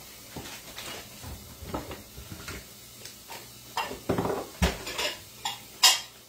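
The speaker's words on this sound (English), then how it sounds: "I gotta get it full so I can crack these eggs and get them mixed up." Clinks and clatters of eggs being cracked into a bowl and mixed in a home kitchen, with scattered close taps and knocks of dishes and utensils that grow busier toward the end.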